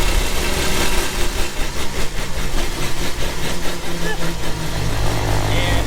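A mini military jeep engine drones loudly and steadily while cruising at top speed in third gear, a rough continuous rumble with a slight rhythmic pulse.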